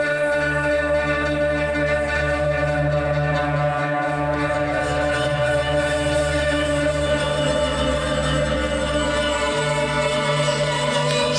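An Omnisphere synthesizer patch with a manganese element layered in plays a dense, sustained tonal drone. A low bass note shifts partway through under bright shimmering upper harmonics, and it stays steady and loud with no voices.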